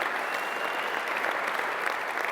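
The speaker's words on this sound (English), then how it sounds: "Let's give them a round of applause" An audience applauds at a community event honouring people, a steady, even patter of many hands clapping at moderate distance, continuous with no pauses and no voices standing out.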